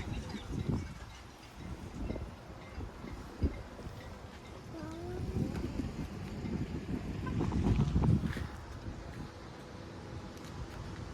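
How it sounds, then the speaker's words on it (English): Outdoor breeze buffets the microphone in uneven gusts and rumbles, swelling toward the end, with faint voices underneath. "Nice and breezy."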